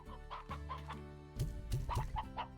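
Chickens in the farming video game Slime Rancher cluck in short, close bursts, a quiet run of clucks followed by a louder, denser cluster.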